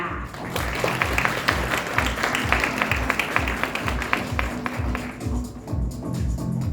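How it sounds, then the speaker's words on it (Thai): Applause welcoming Paula Taylor at a Highgate International School Thailand press event, a run of crisp rhythmic claps under a voice speaking over a PA, lasting several seconds. "ขอเสียงปรบมือต้อนรับคุณพอลล่าเทเลอร์ค่ะ"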